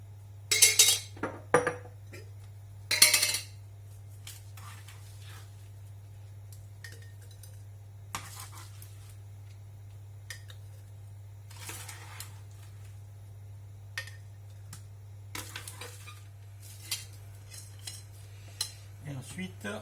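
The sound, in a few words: confit tomatoes and garlic being put into a jar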